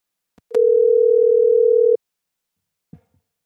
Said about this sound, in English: Let me see if I can dial him back